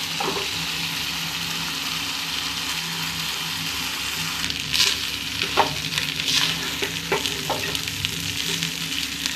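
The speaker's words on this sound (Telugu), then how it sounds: "ఇలా ఉన్నాం కానీ చూడండి ఇప్పుడు ఫ్రై చేస్తాం" Mutton sizzles steadily in a hot pan for mutton fried rice, a dense continuous frying hiss with occasional louder bursts and spatula scrapes toward the end, and no voices.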